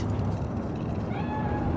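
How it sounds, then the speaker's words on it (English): A cat meows in the video game Cyberpunk 2077, a short, clear call heard over a steady hum of ambient city noise. "Fine-looking feline."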